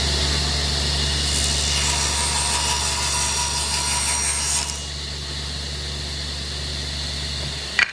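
A table saw cuts a piece of wood for a money box. The blade whines loudly under a steady motor hum for several seconds, the whine drops away as the cut finishes, and the motor keeps running afterward.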